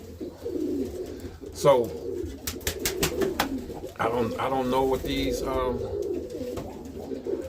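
A pigeon coos repeatedly in short rolling calls nearby, heard clearly under someone talking casually.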